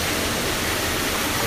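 A pool sand filter backwashing gives a steady, dense rush of water, broadband and unbroken, like a close, loud gush for the whole brief moment.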